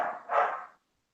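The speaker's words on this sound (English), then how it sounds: "Can you listen to my dog bark still?" A dog gives a single short, fairly quiet bark indoors during a thunderstorm, the sound fading quickly into silence.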